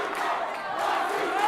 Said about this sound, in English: It's crazy with the crowd.